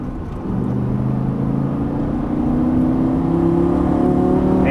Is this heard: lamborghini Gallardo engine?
yes